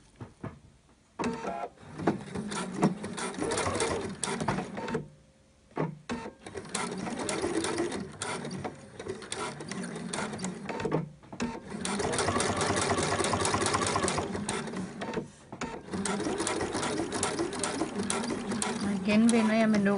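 A sewing machine stitches reflective tape in long, steady mechanical runs, broken by a few short pauses as the work is repositioned, with the motor whirring close and clear throughout.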